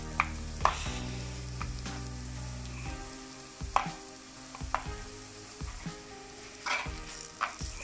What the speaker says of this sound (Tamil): நாங்கள் ஏற்கனவே அரைச்சி வச்சுருந்து இஞ்சி பூண்டு பேஸ்ட்டை வந்து நாங்கள் இப்போ அதில் போட போகிறோம்